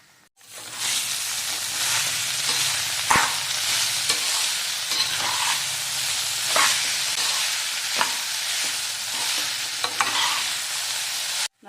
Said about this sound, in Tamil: இந்த மிளகுத்தூள் கொஞ்சம் பொரிஞ்ச உடனே எடுத்து வச்ச சாதத்தை போட்டு கிளறிட வேண்டியதாங்க